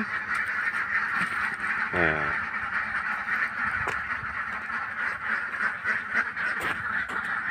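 Khaki Campbell ducks, about 1.5 years old, quack repeatedly in a noisy flock, one near call standing out amid a continuous chorus of quacking.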